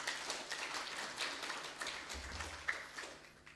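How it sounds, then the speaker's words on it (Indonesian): Faint applause from a training-course audience at an opening ceremony in East Kalimantan, a soft, steady patter of many hands clapping that stays quiet and distant throughout. "Ya, tepuk tanganlah untuk kita bersama"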